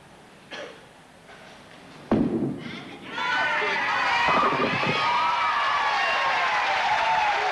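A bowling ball strikes the pins on lane 11 at Logan City Lanes during a Goldpin Classic men's match, a sharp crash of tumbling pins followed by a crowd erupting in sustained applause and cheers.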